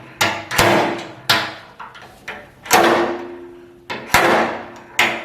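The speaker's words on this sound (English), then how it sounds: "you're just going to slide the hammer back and strike the back of the handle here" A slide hammer strikes repeatedly to pull a dent from a truck fender, each loud metallic clack ringing briefly, coming at irregular intervals about a second apart with short sliding scrapes between hits.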